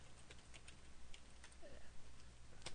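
A name is typed on a computer keyboard: quiet, irregular clicking keystrokes in short bursts, close up in a hushed room.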